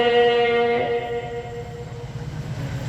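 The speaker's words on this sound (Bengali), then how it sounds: "আমার তো মনে হচ্ছে আজকে বেশি ট্রেন চলছে" A train passing nearby, its horn sounding at the start and fading into a steady rumble of wheels on the rails.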